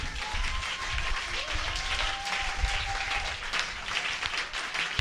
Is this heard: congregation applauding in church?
yes